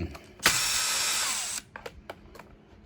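A power screwdriver whirs in one steady burst of about a second, loud and close, backing screws out of a Bonchi V99 water pump that has lost suction and pressure, followed by a few small metallic clicks.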